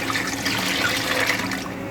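Water pours steadily into a pot of kadhi pakora batter for Punjabi-style kadhi, a continuous close splashing gush lasting the whole moment with no voices.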